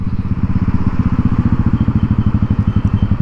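A Yamaha SR400 single-cylinder engine, freshly overhauled and fitted with a Wisco 88mm piston, idles up close with a steady, loud, even thumping pulse throughout.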